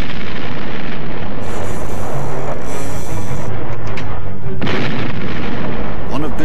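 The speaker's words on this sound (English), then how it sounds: "Bismarck responds with a series of salvos." The battleship Bismarck's heavy guns fire a series of salvos: loud, sustained booming and rumbling blasts at close range, with rolling low thunder between shots and narration over them.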